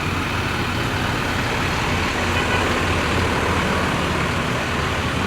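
TransJakarta buses standing by in the rain outside Cibubur Junction mall, a dense, continuous engine rumble blended with steady rain hiss, close and unbroken throughout.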